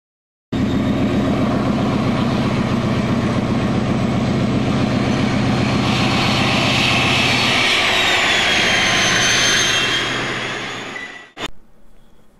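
A Class 56 diesel locomotive runs in a loud, sustained rumble with a pulsing low beat and a rising whine, then its note shifts and fades before stopping abruptly.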